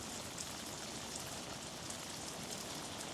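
Heavy rain pours steadily onto a camping tent, a dense, continuous hiss with scattered closer drops pattering on the fabric throughout.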